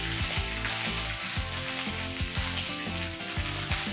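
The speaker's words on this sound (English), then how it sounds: "Now in the same oil, I'm going to add a teaspoon of ginger paste and a teaspoon of garlic paste and fry it till the raw fragrance goes off." A teaspoon each of ginger paste and garlic paste fry in hot oil in a chicken curry pan, giving a loud continuous sizzle with a few faint stirring knocks.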